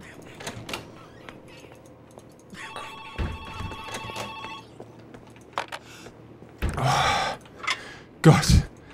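Telephone ringing in the German-language play of the video game Joe's Diner, a steady electronic ring lasting a couple of seconds amid scattered game sounds and clicks, followed by louder bursts of noise.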